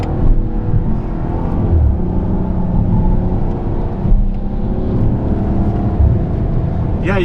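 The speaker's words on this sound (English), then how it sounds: "you can hear that exhaust note on the gear changes" A 2018 VW Passat GT with DSG paddle shifting makes a steady, loud exhaust drone from inside the cabin, with slight dips where gears change and no clear speech over it.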